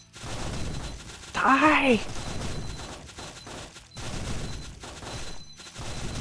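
Fire gun spell shooting in the video game Spellbook Demonslayers, crackling bursts of rapid fire that repeat through the scene, mixed with game effects while a player talks and shouts over it.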